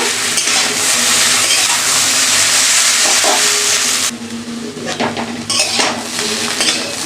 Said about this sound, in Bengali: ভালো করে আমি দেখো কষিয়ে নিচ্ছি বা ভাজা ভাজা করে নিচ্ছি